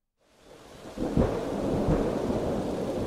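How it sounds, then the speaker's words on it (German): A thunderstorm with rain: low rumbling thunder swells in from silence and then holds as a steady roar of rainfall, with two deeper thudding rolls early on. "Sauwetter. Sauwetter. Es hat angefangen zu regnen."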